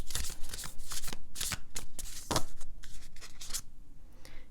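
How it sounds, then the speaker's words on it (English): A deck of Moonology oracle cards being shuffled by hand, with quick riffling bursts and soft card slaps that repeat at an uneven rhythm, close up with no one speaking. "Just pull a Moonology card for you."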